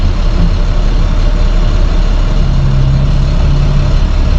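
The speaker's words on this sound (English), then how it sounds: "A big dump truck." A large dump truck idles at a gravel quarry, its heavy diesel engine giving off a loud, steady low rumble that continues without break and without voices.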